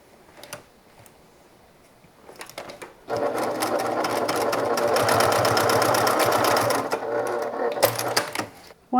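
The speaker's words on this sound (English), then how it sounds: "I'm going to stitch these short edges together" A sewing machine runs steadily, stitching a 1/2 inch seam along the short edges of a designer-style bag held right sides together; a few soft handling clicks come first, then a loud continuous whir for about six seconds before it stops.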